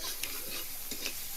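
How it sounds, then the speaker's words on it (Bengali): Green chilies, turmeric and salt are stirred in a hot pan with a soft, steady sizzle, broken by a few faint scrapes of the spoon. The sound is close but quiet. "দিয়ে ভালোভাবে নাড়িয়ে চাড়িয়ে নেব।"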